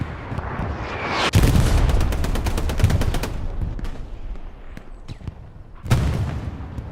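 Gunfire and tank shell blasts in the console WWII shooter Hell Let Loose on the Western front: a sudden loud burst of rapid shots lasting about two seconds, scattered single cracks after it, and another heavy boom near the end.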